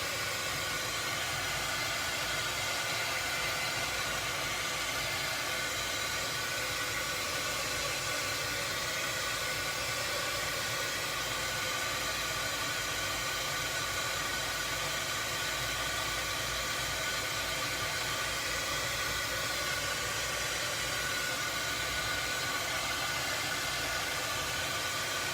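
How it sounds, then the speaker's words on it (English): A handheld heat tool blows steadily over a craft project, drying painted heart and hat pieces, with a constant airy hiss and whir that holds at a near, even level throughout. "Then I'm going to bring my heat tool in again and get the heart and the hats dried up."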